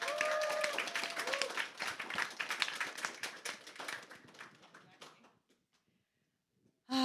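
Audience at a Zeldathon charity gaming marathon grand finale clapping and applauding, dense overlapping claps that gradually thin out and fade to silence before a voice cuts in at the end.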